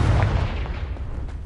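The Confringo blasting spell explodes in Hogwarts Legacy with a deep, booming burst up front that rolls off into a rumbling, fading tail.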